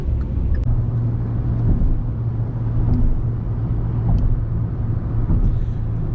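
A Hyundai i20 hatchback with a 1.2-litre Kappa petrol engine and five-speed manual gearbox drives along, heard from inside as a steady low engine and road rumble.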